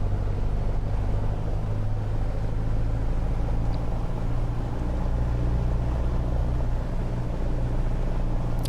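A light aircraft engine in Microsoft Flight Simulator 2020 holds a steady run-up to 1800 RPM, a continuous loud low drone and hum that stays even from start to end with no talking.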